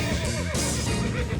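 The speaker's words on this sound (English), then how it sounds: "Horses' tails, horses' heads, horses whinnying, horses walking, horses running." A horse whinnies once, loud and close, over steady rough outdoor background noise, with no talking.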